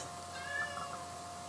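A pet cat gives a single faint, short meow indoors over a quiet background hum.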